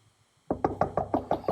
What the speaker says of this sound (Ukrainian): Просто дійди до дверей і зсередини квартирну двері постучи.